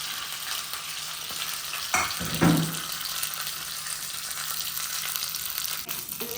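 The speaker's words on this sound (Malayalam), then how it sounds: "അതിന് അവസാനം നമുക്ക് കടുകും പച്ചമുളകും കറിവേപ്പിലയും കൂടിയിട്ട് ഒന്ന് വറുത്തിടാം" Continuous crackling sizzle of mustard seeds, green chillies and curry leaves frying in hot oil, with a sharp burst of spattering partway through.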